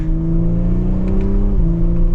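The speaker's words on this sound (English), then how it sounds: "Sounds so good with the active exhaust" A 2024 Audi S5 Sportback engine drones steadily from inside the cabin in manual mode, a deep active-exhaust note holding constant pitch with a brief dip, loud and close.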